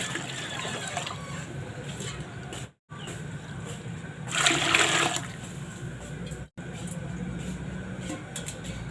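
Water gushes and splashes steadily into a cooking pot, with a louder rushing surge partway through and two brief cuts to silence.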